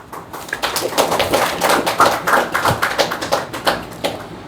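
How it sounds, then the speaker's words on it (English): An audience at a spoken-English anchoring training session claps, a dense run of crisp hand claps that lasts about four seconds before trailing off, fairly close, with no talking. "Let's us encourage and support every participant with a big round of applause."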